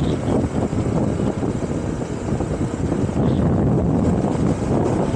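Strong wind roars steadily against the microphone while riding a Honda ADV 160 scooter along Sungay Road to Tagaytay, loud and constant throughout with a low rumbling buffet.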